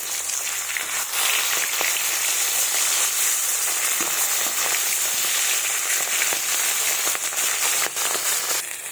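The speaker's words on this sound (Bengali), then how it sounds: "তো আমার মাছগুলো ভাজা হয়ে গেছে, এবার তুলে নেব।" Fish fries in hot oil in a pan, giving a dense, steady sizzle and crackle with scattered pops throughout, loud and close with no talking.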